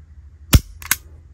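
A Wilson Combat 92G Brigadier Tactical 9mm pistol dry-fired in single action: one crisp, sharp trigger click, followed moments later by a quicker pair of lighter metallic clicks, close and isolated.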